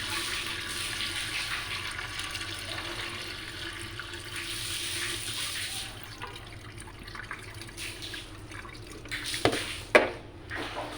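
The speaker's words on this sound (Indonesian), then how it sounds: "Lalu kita buang airnya." Rinse water poured off washed rice before cooking it in a pressure cooker, a continuous close gush and splash of water draining away, ending in a few drips and container knocks, with no talk.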